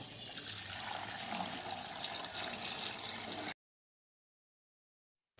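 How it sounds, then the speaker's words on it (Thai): Cooled sugar syrup poured back over Indian gooseberries: a steady, close liquid pour for about three and a half seconds, then it stops abruptly into silence, with no talking. "เมื่อน้ำเชื่อมเย็นแล้วนำกลับมาเทใส่สมอ"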